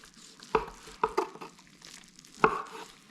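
A knife works through smoked brisket, giving three or four distinct soft cutting strokes close by, with quiet gaps between them and no talk.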